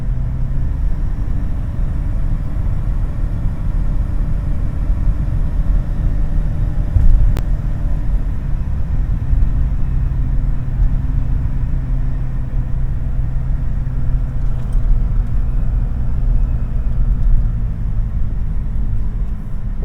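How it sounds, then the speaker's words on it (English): A 2000 Toyota Tacoma pickup rolls along city streets, its engine hum and road rumble blending into a steady, loud drone from inside the cab that lasts the whole stretch, with no talking. "road noise and engine noise does start picking up"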